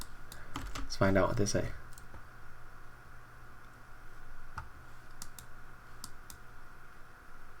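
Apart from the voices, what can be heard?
typing on a computer keyboard into Google Translate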